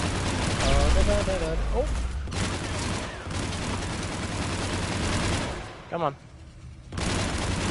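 Rocket blasts and rapid gunfire from a Mass Effect firefight roar loudly and continuously, with heavy low booms and dense crackling bursts, while a player's voice exclaims over the noise.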